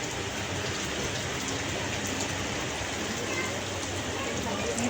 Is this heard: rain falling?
yes